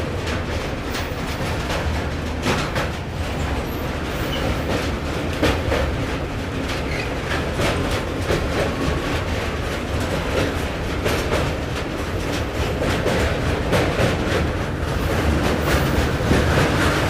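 Indian Railways West Bengal Sampark Kranti express rolling over a long bridge, a continuous loud rumble with rapid clickety-clack of wheels on rail joints, heard close and steady throughout.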